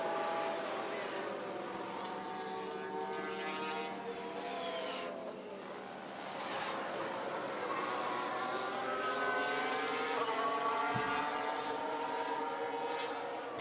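Racing cars in a racing video game, engines whining and shifting pitch continuously as cars drive past, with a steady layered roar at moderate level.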